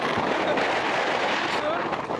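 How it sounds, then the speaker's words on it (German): Strong wind in Normandy buffets the microphone, a steady loud roaring rumble with gusty swells running throughout. "Es ist extrem windig hier."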